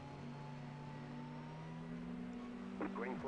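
A Formula 4 race car engine drones steadily at the race start, a faint, continuous tone that climbs slightly in pitch, with a voice briefly talking near the end.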